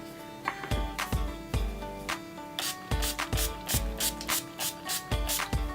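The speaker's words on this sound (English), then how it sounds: "spray my face with some setting spray." Makeup setting spray misted onto a face in a rapid series of short, close hissing spritzes, roughly a dozen pumps in an uneven rhythm over faint steady background music.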